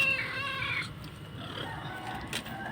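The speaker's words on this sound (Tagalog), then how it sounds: "Itong mga pusa na to, wala silang kabusugan, maya't maya nangihingi ng pagkain" Several cats meow and caterwaul insistently for food, close and fairly loud, with overlapping cries continuing throughout.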